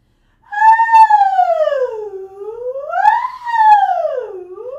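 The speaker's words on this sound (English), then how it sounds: "Can you do a little soprano siren for me?" A clear solo soprano voice slides up and down in a smooth siren-like vocal exercise sweep, rising high to the top note, falling low, then repeating, with no words.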